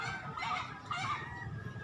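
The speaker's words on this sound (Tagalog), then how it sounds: "Kalapati." Pigeons gathered together, a steady run of soft cooing and fluttery bird calls close by, continuous for the short stretch with no talk.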